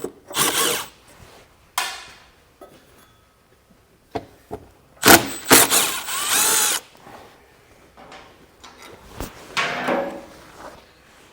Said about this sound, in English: we're going to have 2 10mm nuts in the back. I'm going to start with those with a 10mm socket